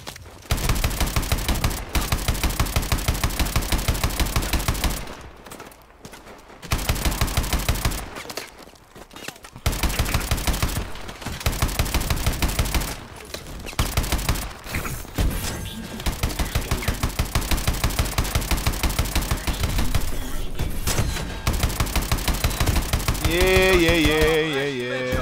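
Gunfire from a weapon in Call of Duty: Advanced Warfare, loud rapid automatic bursts separated by short pauses, ending with an electronic whirring tone.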